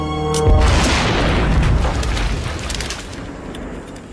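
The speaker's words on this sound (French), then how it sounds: "C'était une explosion?" A deep, heavy explosion boom in a horror film swells after a brief tone and rolls on as a loud, sustained rumble, with crackling debris fading over several seconds.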